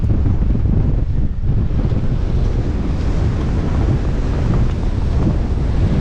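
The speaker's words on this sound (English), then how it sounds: "It's really, really windy." Strong wind blasts across the microphone on a bicycle tour, a loud continuous roar and buffeting rumble that never lets up.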